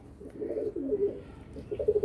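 Nearby Madrasi pigeons give a series of soft, throaty coos, some rising in overlapping bursts toward the end, with no voices heard.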